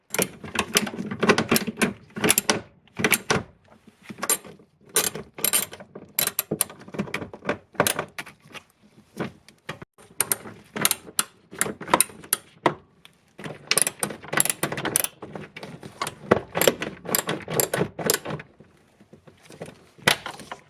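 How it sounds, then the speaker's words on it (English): A ratchet tightens 8mm nuts on a 1999 Acura RL tail light, a long run of rapid close clicking in irregular bursts with short pauses between strokes, no talk. "Alright, then I'll tighten those down. 8mm again."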